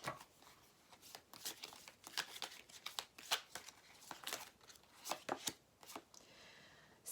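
Tarot cards being shuffled close up, a quiet series of crisp riffling and slapping bursts repeating irregularly every half second or so, soft and alone without talk.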